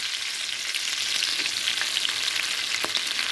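Fish fries in hot oil in a pan. A close, steady crackling sizzle with small pops carries on evenly throughout, with no voices.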